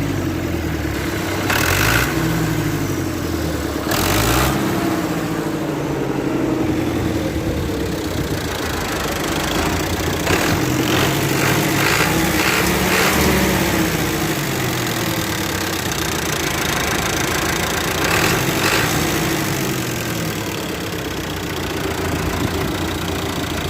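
A 1989 Fiat 640 tractor engine idles steadily up close, a loud low chugging with a regular knocking beat and a few sharp clanks, running alone without talk.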